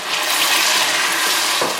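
A few tablespoons of extra water go into frying masala in a cooking pan for dal makhani, making a short, loud, steady pouring and sizzling rush from start to finish.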